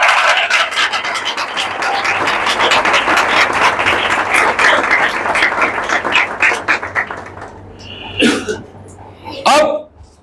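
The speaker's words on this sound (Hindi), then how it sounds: "यीशु मसीह के लिए भरपूर तालियां दें, हालेलुया।" A church congregation at a Sunday sermon applauds in a sustained, loud burst of clapping that fades out, followed by a few short exclamations.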